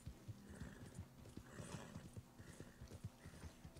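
Hooves of a black Arabian horse clip-clop steadily in Red Dead Redemption, with a whinny rising over the rhythmic footfalls, close and fairly clear.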